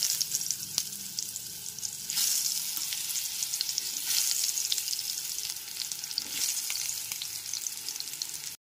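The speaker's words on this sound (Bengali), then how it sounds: "এইবার হাফ হাফ করে কেটে রাখা আলুগুলোকে লবণ আর হলুদ গুঁড়ো দিয়ে মাখিয়ে ভেজে নেব।" Halved potatoes coated in salt and turmeric fry in hot oil, giving a steady close crackling sizzle with a few louder surges and no speech, then cutting off abruptly at the end.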